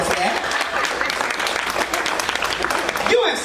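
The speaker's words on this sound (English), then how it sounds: "y'all clap it up for that, clap it up for that, clap it up for that" A crowd at a Black History brunch applauds, a dense, loud wash of clapping with some cheering mixed in that holds steady the whole time.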